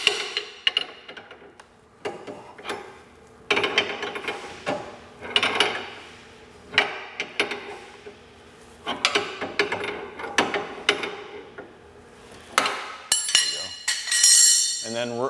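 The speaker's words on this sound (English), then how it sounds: "Now hold the jam nut with a wrench and adjust the nylock nut until you get a proper outer seal." A wrench clinks and taps on metal while a nylock nut and jam nut are adjusted on a hydraulic through-frame RV slide-out mechanism; irregular close metallic clicks and knocks in short clusters, with someone talking throughout.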